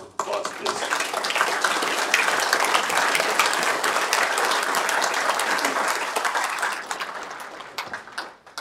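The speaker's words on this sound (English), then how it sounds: "Give yourselves a round of applause, please." Audience at a municipal meeting breaking into sustained applause, a dense steady clapping that fades out over the last couple of seconds.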